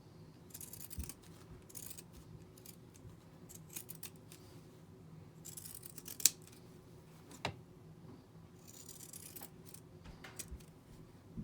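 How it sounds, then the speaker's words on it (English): Pinking shears trim the seam allowance of a small fabric lip balm key fob, giving repeated soft snipping and crunching cuts at close range with a few sharper clicks, no talking. "I'm going to trim the seam allowance with some pinking shears."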